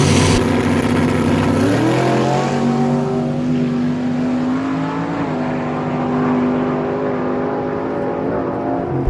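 A 1997 Chevy pickup with a nitrous-fed 582 big block Chevy roars hard down a no-prep drag strip, with loud, rising engine revs through the gears that then hold at a sustained, powerful drone.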